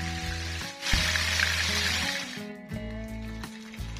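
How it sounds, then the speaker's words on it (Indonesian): Tilapia frying in hot oil, a loud continuous sizzle with crackling bursts that dips briefly and then resumes, with no talking. "Kita lanjut goreng lagi sebentar sampai ikannya ini benar-benar matang untuk kedua belah"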